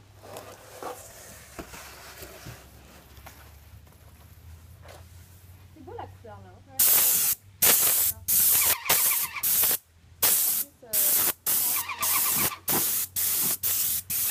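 Spray paint is applied to the back of a bus in loud, close, repeated short bursts of hiss with brief gaps. These follow a quieter stretch of low hum with voices talking.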